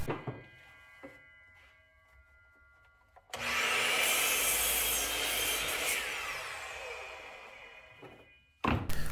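Wood pieces being cut to size for Halloween Jack O Lantern boxes: a few light knocks and handling sounds, then a loud sustained power-saw whine through the board for several seconds, ending in a sharp clunk.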